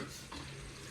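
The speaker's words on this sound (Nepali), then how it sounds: "हाम्रो यहाँ चाहिँ मासु पाक्दैछ" Meat cooks in a pan with a faint, steady sizzle and a brief scrape of stirring, heard quietly and alone.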